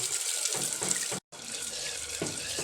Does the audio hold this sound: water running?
yes